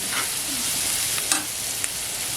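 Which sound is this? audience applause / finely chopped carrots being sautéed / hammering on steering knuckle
finely chopped carrots being sautéed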